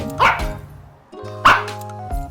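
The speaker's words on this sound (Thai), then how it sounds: "ฉันชื่อว่าหมา เก่งก้าหน้าดู เป็นสัตว์แสนรู้ ช่วยเห่าเฝ้าบ้าน" Two short barks from a dog, close by, separated by a brief pause, with a faint musical backing underneath.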